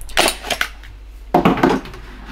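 A small spoon clinks and scrapes in a glass holding instant coffee powder and ice cubes, two separate bursts of bright rattling contact sounds close by with a pause between, no talking.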